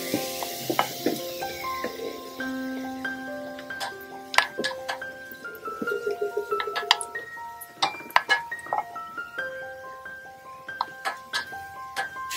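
Onions fry in a pan toward light brown under a quiet sizzle, broken by frequent clinks and ticking taps of a utensil against the pan at an irregular pace.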